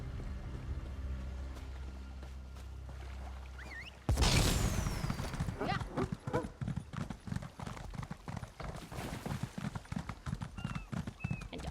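Rapid clip-clop hoofbeats of a very fast horse galloping in a video game, steady and prominent after a sudden start, with faint ambient game sounds behind.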